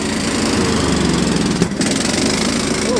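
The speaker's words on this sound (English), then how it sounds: "Mower deck's working well." A John Deere LA105 lawn tractor running with its mower deck engaged makes a steady, loud engine drone with a constant whirring hum, close by and without talk.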